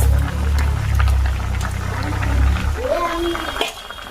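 Fish curry with fried fish added bubbles steadily as it boils in a pot, over a low rumble, with someone talking over the sound.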